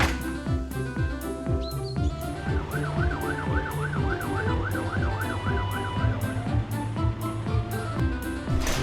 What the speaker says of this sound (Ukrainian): Викликаємо пожежну машину